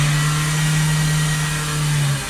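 A Renault Trafic 1.6 diesel engine held at raised revs with a suspected preheating and particle filter fault, giving a steady, loud, sustained drone close by that dips slightly near the end, with no talking.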